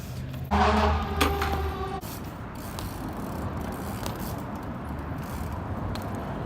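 A bicycle ridden along the road gives a brief loud mechanical rattle and clatter near the start, then settles into a steady, moderate rolling hiss of tires and chain.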